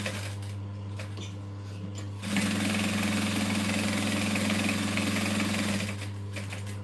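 A sewing machine runs a basting stitch on a clutch bag, starting with a low steady hum and then switching into a loud, even, rapid whirring stitch run that stops just before the end.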